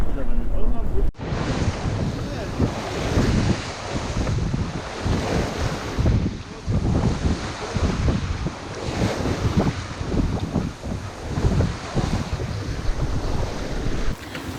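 Strong wind buffets a heeling sailboat at sea, roaring across the microphone with waves and water rushing alongside, loud and close throughout.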